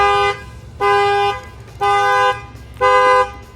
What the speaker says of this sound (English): that will set off the alarm